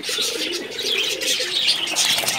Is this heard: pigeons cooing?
yes